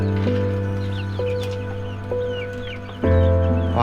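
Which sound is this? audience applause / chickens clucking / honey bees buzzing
chickens clucking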